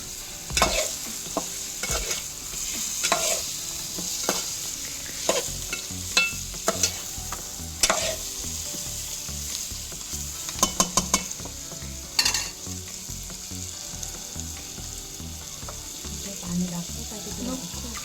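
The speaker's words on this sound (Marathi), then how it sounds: "मसाला चांगला भाजून निघेपर्यंत हे तीन ते चार मिनटं असंच परतून घ्यायचं आहे" Red fish fries with spice masala in a pan, a continuous sizzle broken by repeated scraping and clattering strokes of a spoon stirring, close and fairly loud.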